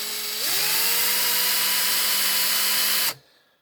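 A small power drill bores out a deep alloy rivet on a 1982 Matchbox Pontiac Firebird toy car. It makes one loud, steady whine for about three seconds, rises slightly in pitch after starting, then stops abruptly.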